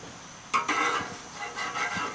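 Bourbon brown sugar French toast sizzles softly on a hot grill, a low crackling hiss with a few light scraping and tapping sounds from handling the slices, no talking.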